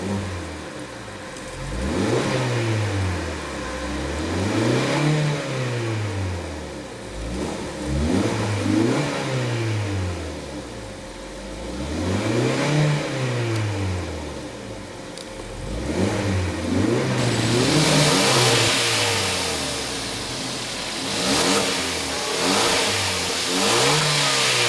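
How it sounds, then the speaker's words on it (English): A 2015 Hyundai Veloster with a 1.6 L turbo four-cylinder revs repeatedly, its engine climbing and falling in rounded swells about every few seconds, loud and close with no talking. "Now let's go ahead and rev it up."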